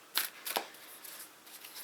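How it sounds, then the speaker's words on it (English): Playing cards shuffled clumsily, two quick riffling bursts near the start followed by softer scattered card flicks, close and fairly quiet with no talking. "I can't shuffle cards, as you can see."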